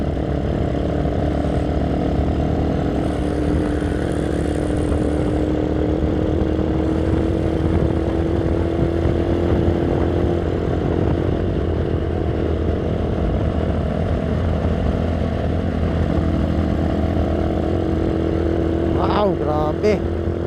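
Kawasaki Z200 motorcycle engine running steadily at speed while leaning through curves, a continuous loud drone throughout with shifting tone, wind rush and a brief burst of voice near the end.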